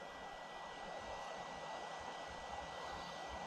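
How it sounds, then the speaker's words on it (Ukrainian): The cooling fan of a solar inverter in a DIY solar power station whirs steadily, with a continuous, even airy hum and a faint tonal whine that stays constant throughout, without any talk. "Так, він включився, запрацював вентилятор."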